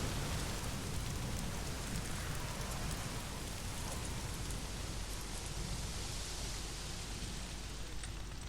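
Heavy, steady rain in the video game Days Gone pours down in a dense, continuous hiss, loud and close, with no voices.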